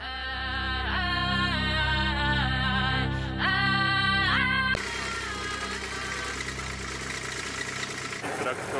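A tractor engine runs on a farm with a steady harmonic drone that swells in pitch twice as it revs, then shifts to a rougher, noisier running sound, with people talking nearby.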